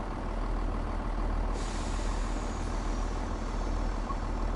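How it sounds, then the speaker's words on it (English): A train arrives at a platform on the Fife Circle Line in Train Sim World 4, a steady low rumble of the engine with a sharp hiss of air brakes bursting in partway through and trailing off, no voices. "you'll be able to certainly hear it"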